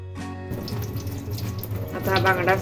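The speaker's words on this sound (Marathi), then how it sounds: "आता हा बांगडा असा स्वच्छ धुवून याची घाण काढून घ्यायची आहे." Dried mackerel being washed under a running kitchen tap, water gushing and splashing steadily and close, rising louder near the end as the fish is rubbed clean.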